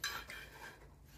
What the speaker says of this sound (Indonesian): Kita taruh sendoknya.